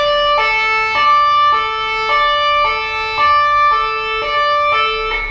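An electric guitar plays a repeating two-note tapping pattern that rises and falls like an ambulance siren, sustained and loud with no talking.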